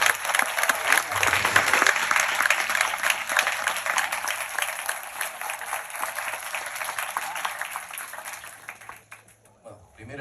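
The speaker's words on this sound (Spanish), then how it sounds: "Recibimos un gran fuerte aplauso al director Juan Pablo Sarera." Sustained audience applause for a film director at the 27th edition of a film festival, loud and dense clapping from a large crowd that gradually thins and fades out toward the end.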